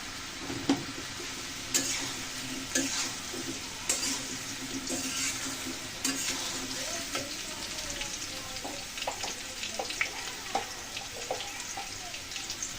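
Soybean chunks and deep-browned fried potatoes stirred in a frying pan, a steady close sizzle broken by repeated scraping strokes of the spatula every second or so.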